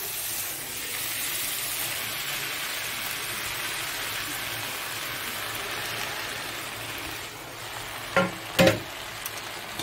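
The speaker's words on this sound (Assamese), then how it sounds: "এতিয়া দি দিম কচুখিনি।" Taro pieces go into a tomato curry frying in a pan, giving a steady sizzling hiss throughout, followed by a couple of brief knocks near the end.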